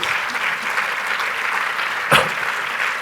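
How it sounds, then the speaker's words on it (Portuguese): An audience at a retail industry congress applauds Ruth, a steady, dense wash of clapping from a full room that holds evenly throughout, with one sharper, louder burst near the end. "um aplauso para a Ruth, que esteve connosco"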